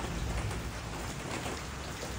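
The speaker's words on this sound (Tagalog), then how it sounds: "Walang tigil ang ulan." Steady, continuous rain falls during the rainy season as a dense, even hiss of drops on surfaces, heard alone and fairly close, with a faint low rumble underneath.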